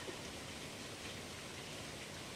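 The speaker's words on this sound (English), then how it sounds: "It's pouring the rain." Heavy rain pouring down outdoors by a backyard with grapevines, a steady, even hiss of broadband patter lasting throughout at moderate distance with no voices.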